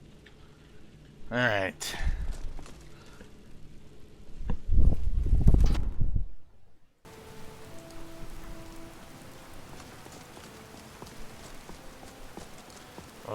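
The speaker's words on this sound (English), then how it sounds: "Well, it's raining in this game" Steady rain in the game Skyrim, a soft broadband hiss falling continuously through the second half after a loud burst of other game sounds, with a brief spoken word early on.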